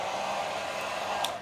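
A T3 blow dryer runs steadily while drying long hair, a continuous close whooshing hiss of airflow with motor hum, alone without talk, easing slightly at the very end.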